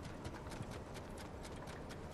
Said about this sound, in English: He has custom footstep noises.